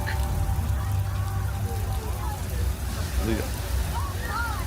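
A flash-flood rain effect on the Universal Studios Hollywood Backlot Tram Tour, with steady rushing water and spray filling the whole stretch while passengers chatter and shout over it.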